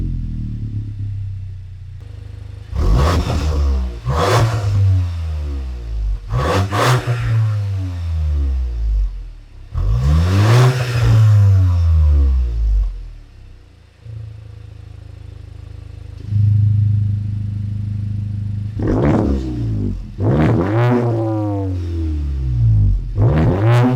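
A 2022+ Volkswagen MK8 GTI with a valved XForce performance exhaust revs repeatedly, each sharp blip climbing and falling back to a steady idle, loud and close with no talking.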